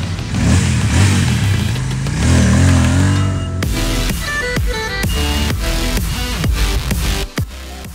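Royal Enfield Interceptor 650 motorcycle engine, close and loud, holding a rough idle before a run of sharp revs that rise and fall in quick bursts near the end.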